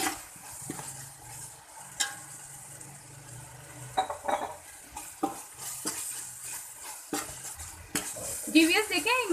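Masala for a black chana pulao roasts in a pan as a spoon stirs it, giving a soft sizzle under repeated scrapes and occasional clinks of metal, close but fairly quiet.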